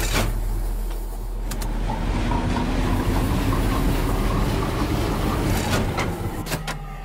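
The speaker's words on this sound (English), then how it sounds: "We were supposed to do something about that train." A video game train rolling along rails, a steady loud rumble with rhythmic clickety-clack and a few sharp metallic clanks near the start and end, no talking.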